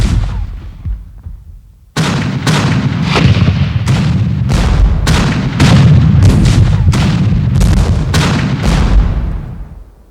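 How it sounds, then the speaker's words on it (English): Artillery fire from the siege of Yorktown booms in a rapid, irregular barrage of loud, close cannon blasts, each trailing a rumbling echo, then fades out. "the Americans massed their greatest concentration of artillery, now within point-blank range of the British defenses"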